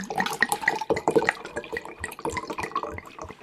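Water runs from a kitchen tap, a steady splashing stream with irregular drips and spatters as a glass fills, close and fairly loud for a few seconds with no talking.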